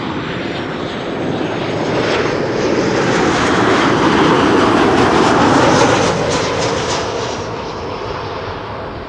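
A Transavia airliner arriving from Kefalonia at Schiphol Airport roars steadily overhead, a broad engine rumble swelling to a peak midway then easing as it passes, loud and unaccompanied by talk.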